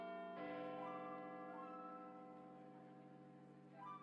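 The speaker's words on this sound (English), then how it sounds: "It's a church bell." A church bell chimes in the Hercule Poirot: The London Case game, one sustained ringing strike that slowly decays, heard alone and fairly soft.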